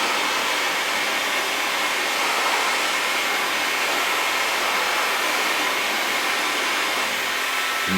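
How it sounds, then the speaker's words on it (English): A heat gun slowly heating a plastic air intake part for a classic Mini track day car, giving a steady, loud, continuous blowing roar throughout with no talk. "You can see here now I've got the heat gun."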